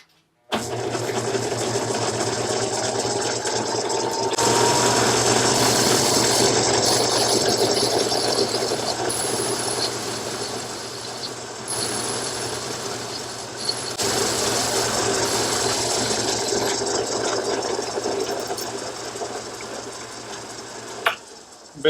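A metal lathe parts off a pulley blank with a steady, loud grinding cut and a constant motor hum running throughout, with brief dips as the tool feed pauses.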